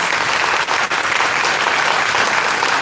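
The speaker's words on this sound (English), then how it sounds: "please give a round of applause for these musicians" Steady, dense applause from a crowd, continuous hand clapping filling the whole stretch at full volume.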